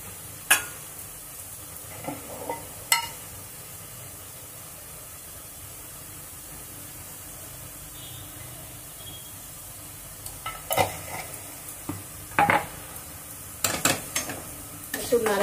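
Leafy winter greens with turmeric powder and salt are stirred in a pan: a quiet, low sizzle with sparse spatula scrapes early on and a denser cluster of scraping clinks near the end.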